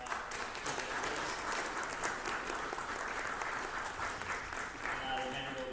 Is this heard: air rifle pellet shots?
no